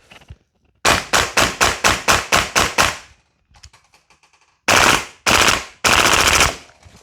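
A Double Eagle JAKL gas blowback airsoft rifle running on green gas with 0.25 g BBs fires a rapid burst of about eight loud, sharp shots, then a quieter rattle, followed by three single heavy shots, close up with no voices.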